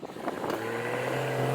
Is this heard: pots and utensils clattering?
no